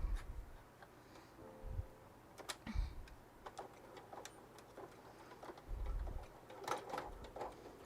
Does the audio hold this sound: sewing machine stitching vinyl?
yes